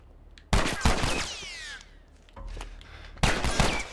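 Gunfire in The Last of Us Remastered: sharp, loud shots burst out near the start and again near the end, with a ringing tail between them and quiet background sounds in the gaps.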